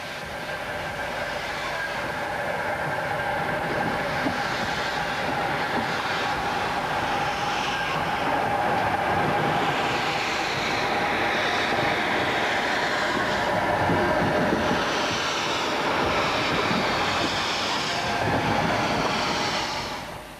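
A B16 steam locomotive hauling a parcels train rumbles past for about twenty seconds, with rhythmic wheel clatter and a heavy continuous roar, no voices.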